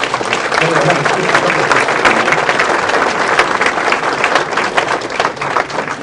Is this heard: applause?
yes